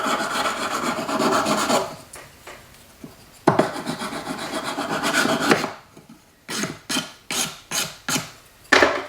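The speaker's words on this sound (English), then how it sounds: "And a little bit finer sandpaper." A metal cuff is rubbed with fine sandpaper in a workshop, heard as long close rasping strokes, then a pause and a run of short, rhythmic scratchy passes.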